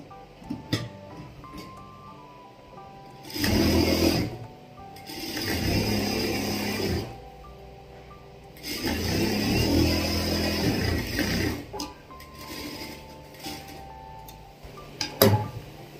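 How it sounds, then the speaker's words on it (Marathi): A sewing machine stitching a piece of cloth: bursts of rapid mechanical clattering run in several runs of a second or two, separated by quieter pauses with faint ticks and clicks, fairly close and without talk. "तर सुरुवातीला मी मशीन चालवून दाखवते मी तुम्हाला."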